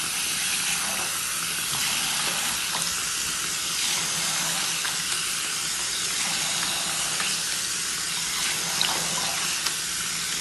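Tap water runs continuously into a sink while a wig cap is rinsed under it, a steady close hiss and splash with slight fluctuations and no speech.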